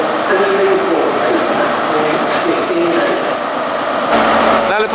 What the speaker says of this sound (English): Now departing is 43024 with the Great Western Society 1961 to 2011, the Didcot Railway Centre, service bound for London Paddington.